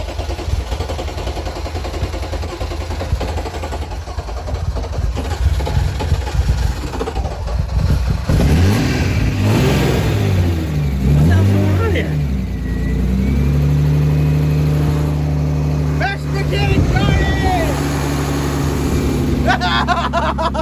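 A BMW E36 car engine, long left sitting and now smoking, cranks, catches and then revs repeatedly, loud and close, with people talking over the rumble.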